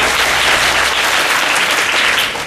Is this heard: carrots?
no